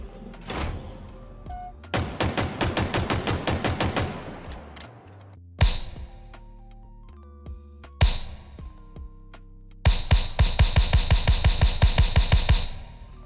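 Pistol fire from Halo Infinite rings out in rapid strings of sharp, ringing shots, with longer bursts broken by single reports and pauses, loud and close, with no talking.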